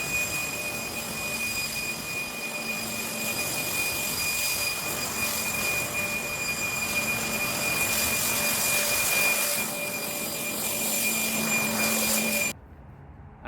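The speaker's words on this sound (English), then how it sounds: "I don't know if a slightly weaker leaf blower would do so, but this one certainly does." A Ryobi leaf blower roars steadily and close in a backyard, a loud whining airflow with a high tonal whine, clearing leaves for about twelve seconds before cutting off abruptly.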